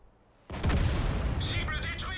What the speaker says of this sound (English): He is working his artillery very hard here.